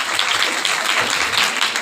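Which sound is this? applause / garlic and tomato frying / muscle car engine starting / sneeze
applause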